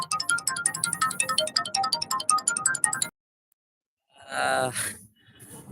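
A phone ringtone plays for an incoming roommate's call during a live stream: a repeating electronic melody of quick bright notes for about three seconds, cut off abruptly, then after a silent pause a brief sigh-like voice sound.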